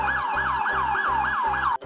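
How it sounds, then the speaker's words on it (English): Police car siren wailing in a rapid, repeating up-and-down sweep, loud and close, about five cycles before cutting off abruptly. "Police car."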